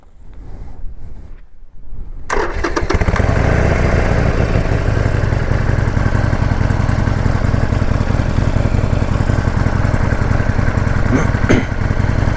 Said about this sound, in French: là je vais la démarrer pour voir un petit peu le bruit qu'elle fait